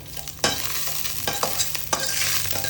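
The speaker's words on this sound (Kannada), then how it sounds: "ಚಟಪಟ ಅನ್ಬೇಕಾದ್ರೆ ಸ್ವಲ್ಪ ಜೀರಿಗೆ ಜಜ್ಜಿರೋ ಅಂಥ ಬೆಳ್ಳುಳ್ಳಿ ಫ್ರೈ ಮಾಡಿ" Crushed garlic, cumin seeds, dried chillies and curry leaves sizzle in hot oil for a South Indian amaranth-leaf saaru, with a steady crackle broken by several sharp spattering pops and stirring scrapes, close up and with no voices.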